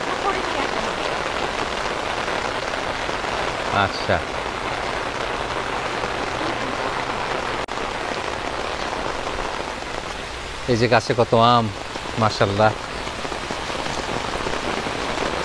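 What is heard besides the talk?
heavy downpour of rain in Florida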